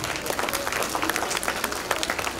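Audience clapping in an auditorium at a summer dance and fashion show, a brief, even patter of many hands at moderate distance, fairly soft and continuous without voices.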